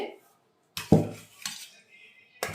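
Cutlery and dishes clink and scrape as home-cooked food (potato-pointed gourd curry, roasted eggplant, jackfruit curry) is served onto a plate, a few distinct knocks and scrapes with quiet gaps between them.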